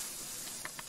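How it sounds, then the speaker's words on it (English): Potatoes boiling in a pot of water give a steady soft hiss, like steam, with a couple of faint bubbling pops near the end. "as you can see, the taters are boiling"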